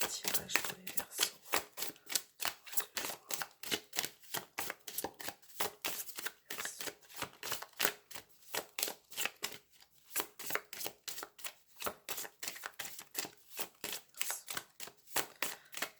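Oracle card deck being shuffled close up, a long run of rapid papery riffles and flicks in uneven bursts with brief gaps, fairly quiet and with no voices over it.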